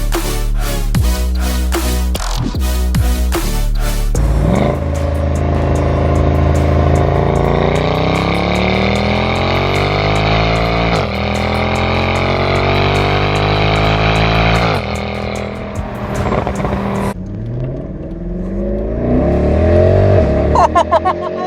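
A Mercedes SL63 engine revs hard and accelerates, loud and close, with quick throttle blips first and then long rising pulls through the gears before dropping to idle.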